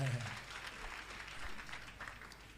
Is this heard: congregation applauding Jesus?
yes